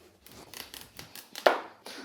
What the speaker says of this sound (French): Le butternut, on va prendre la moitié, donc on commence par, voilà, on le coupe en deux.